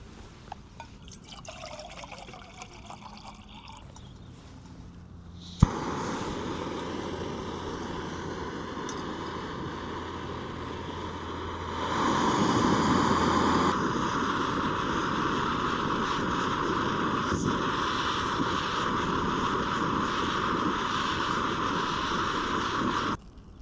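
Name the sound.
MSR Pocket Rocket 2 camping stove brewing outdoors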